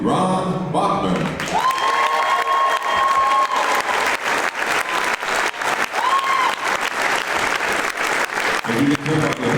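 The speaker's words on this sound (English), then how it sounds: "As you can tell by the applause" Sustained audience applause at a hall of fame induction ceremony, dense and steady clapping across the hall with a few brief whistle-like tones over it and talk at the start and end.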